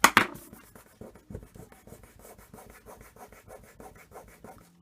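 Bone folder rubbing and pressing glued paper into the corner of a paper gift box, a close run of quick, dry scraping strokes after a sharp initial crackle, with no talking.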